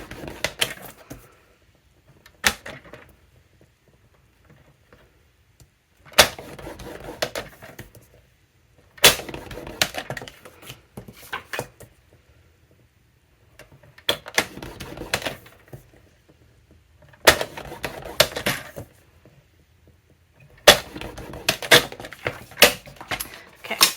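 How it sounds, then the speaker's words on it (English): Paper being scored at half-inch marks on a scoring board for a 4x6 craft album, in several separate bursts of scraping and rubbing, each ending with a sharp tap, close with quiet gaps between. "I am going to score all of these on all 3 sides"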